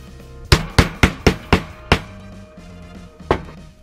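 A metal pipe dropped into the countersunk end of a wooden beam for a homemade circle beam compass gives a quick series of six sharp knocks, then one more isolated knock after a pause.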